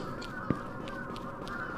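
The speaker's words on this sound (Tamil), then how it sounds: "ஒரு காக்காவை கத்துது." A crow caws in a Japanese horror video game. Several short, hoarse calls rise over a murky, steady ambient background.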